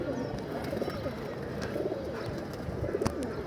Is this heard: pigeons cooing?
yes